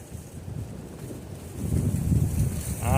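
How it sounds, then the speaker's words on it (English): Strong winter wind batters the microphone outdoors at a beehive, a steady, rumbling low roar that swells louder toward the end. "this wind's crazy too"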